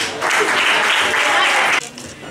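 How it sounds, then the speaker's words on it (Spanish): Audience applause at a Valentine's Day event, a dense burst of clapping for nearly two seconds that cuts off sharply into quieter room sound. "Bueno, un aplauso para ella."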